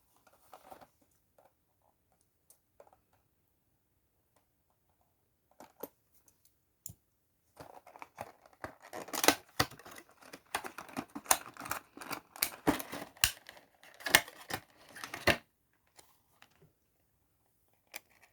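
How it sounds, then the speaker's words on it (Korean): Plastic packaging around a small Usagi figure crinkled and torn open up close, sparse clicks at first, then a dense burst of crackling and ripping, with no talking. "우사기 우사기도 뜯어볼게요"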